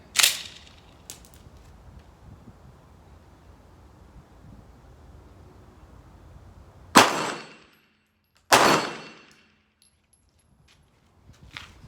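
A Shadow Systems MR920 pistol fires Minuteman Munitions rounds outdoors: one sharp report at the start, then two loud cracks about a second and a half apart near the end, each followed by a short decaying echo.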